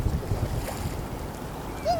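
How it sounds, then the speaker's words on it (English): Waves wash onto a beach near an old lighthouse, a steady low rumble of surf mixed with wind noise, with no voices. "The sounds of the waves."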